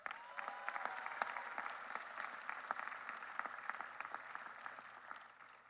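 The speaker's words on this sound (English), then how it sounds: "So please give yourselves a round of applause." Seated graduates at a 2025 undergraduate commencement clap for themselves, soft and distant-sounding applause with scattered sharp claps and a faint voice or whistle near the start, tapering slightly toward the end.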